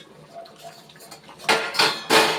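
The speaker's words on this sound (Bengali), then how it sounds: "6-7 মিনিট পরে আমি ঢাকাটা খুলছি।" A metal plate is lifted off a pot of papaya chicken curry: after a quiet stretch, three loud clanks and clattering rattles of metal against metal come close together near the end.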